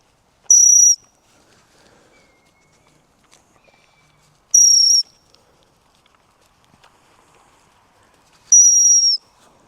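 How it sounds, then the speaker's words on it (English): A gundog training whistle sounds three times in short, shrill bursts, evenly spaced about four seconds apart, loud and close, with faint footsteps and quiet rustling between. "I can blow my whistle to insinuate that that's what I'm looking for."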